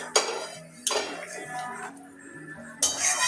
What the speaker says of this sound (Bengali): এবারে ডিমগুলো সব দিয়ে দিচ্ছি।